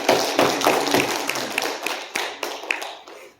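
An Easter service congregation at a Korean church in Federal Way applauds, a brisk burst of many hands clapping with distinct sharp claps popping through, tapering off over a few seconds.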